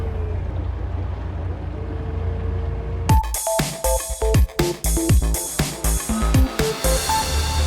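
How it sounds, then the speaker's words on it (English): A Lowrance SmartSteer trolling motor steers a boat toward a waypoint: after a few seconds of quiet background, a burst of close, loud clicks and whirring motor pulses follows in quick irregular bursts. "And now the motor will turn and steer me towards that waypoint."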